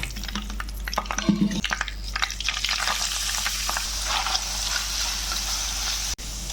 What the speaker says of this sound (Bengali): একটু তেল দিয়ে আমি পেঁয়াজটা ভেজে নেব